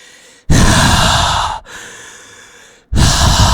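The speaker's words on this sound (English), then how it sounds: "if you're not healthy, you know, you hear the big breathing" Loud, close heavy breathing of an injured survivor in the video game Five Nights: Hunted, with two long rasping breaths separated by a quieter exhale and a third breath starting. No other sound.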